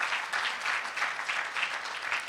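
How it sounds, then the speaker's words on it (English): A crowd at a medical association gala claps steadily, moderately loud, the sound swelling and easing in soft waves. "Give them a big round of applause"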